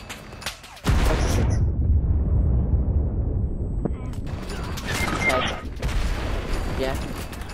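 Video game artillery barrage in a Berlin battle: a sharp blast opens into a long rolling boom, followed by scattered further thuds and crackling gunfire, with a voice calling out at the start.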